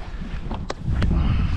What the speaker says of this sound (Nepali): सरर चिसो हावा आइरहेछ